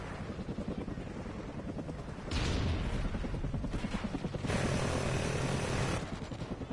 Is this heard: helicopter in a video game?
yes